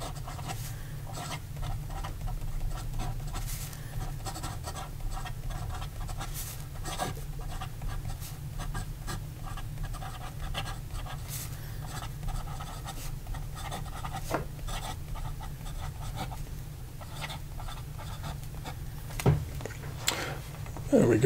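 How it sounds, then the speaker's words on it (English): Visconti Millionaire fountain pen with a palladium nib writing on paper, a steady soft scratching and rubbing of nib on the sheet running throughout at close range, with a few small taps and handling noises near the end. "So here we go with the rest of the writing sample."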